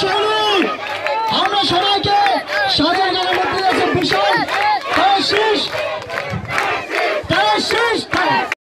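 A large crowd of young supporters chants and shouts in unison at a political rally in Munshiganj, Bangladesh, the loud rhythmic slogans filling the whole stretch without a break.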